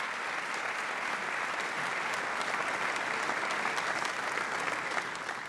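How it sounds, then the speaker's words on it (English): A university awards ceremony audience applauds continuously, a dense, even wash of clapping from a large crowd that holds steady throughout before easing slightly at the end. "let's give them all a great round of applause."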